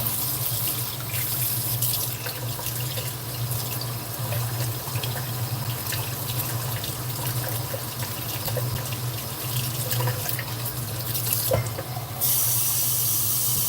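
Water from a kitchen tap runs steadily into a glass for over ten seconds, a continuous close hiss and splash with a brief brighter burst near the end.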